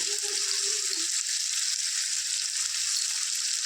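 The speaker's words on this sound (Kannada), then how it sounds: "ಟೊಮೆಟೊ ಬೇಗ ಫ್ರೈ ಆಗಬೇಕು ಬೇಗ ಸಾಫ್ಟ್ ಆಗಬೇಕು ಅಂದರೆ ಸ್ವಲ್ಪ ಉಪ್ಪನ್ನು ಹಾಕ್ಕೊಂಡು ಚೆನ್ನಾಗಿ ಫ್ರೈ ಮಾಡ್ಕೋಬೇಕು" Tomatoes sizzle steadily in a hot pan after salt is added while drumstick chops are cooked, a close, even frying hiss with no talking.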